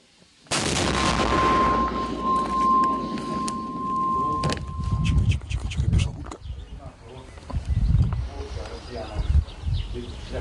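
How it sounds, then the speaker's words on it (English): A 120 millimeter mortar fires with a sharp, loud blast on a battlefield near Bakhmut. Rumbling and crackling follow, along with a brief tone. Later there are muffled thumps and noise from the surroundings. "Shot fired."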